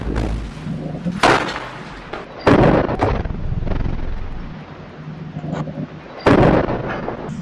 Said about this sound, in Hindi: आईडीएफ और हमास के बीच ताबड़तोड़ गोलीबारी शुरू हो जाती है